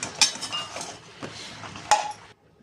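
A spoon stirs salted eggplant in a metal pan, giving a few short clinks and scrapes against the pan over a faint frying hiss before it goes quiet.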